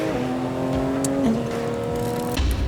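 A Porsche 992 GT3 RS drives on track, its engine note holding steady and then stepping up in pitch as it pulls, heard loud and close from inside the car.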